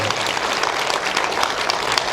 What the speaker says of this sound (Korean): 박수를 치세요.